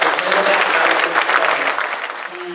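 A dinner audience applauds, a dense burst of many hands clapping at once close by. The sound stays even and full, then begins to thin toward the end as a voice starts speaking under it.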